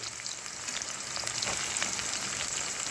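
Chopped onion frying in a pan for a dondakaya fry, a steady close sizzle with faint scraping stirs running throughout, with no talking.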